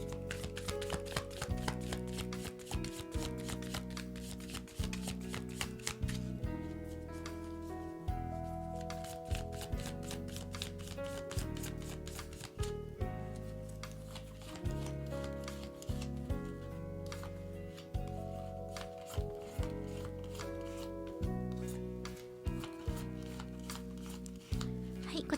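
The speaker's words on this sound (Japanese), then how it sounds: "シャッフルしていきます。" A deck of animal tarot cards is shuffled in steady, repeated soft riffles and slides, quiet and close, under continuous background music.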